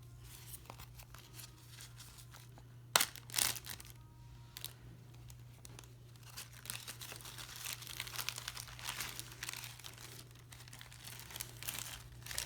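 Frozen peas being tipped into a crinkly plastic zip bag, a steady rustle and crackle of plastic with a sharp burst of crinkling near the start, fairly close and alone, with a low constant hum beneath.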